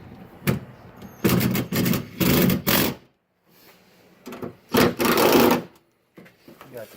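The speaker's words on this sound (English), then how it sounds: "I'm going to go ahead and tighten down these screws, these bolts." A power tool tightens bolts on the window regulator of a GMC Yukon Denali XL in several short buzzing bursts, loud and close, separated by brief silences.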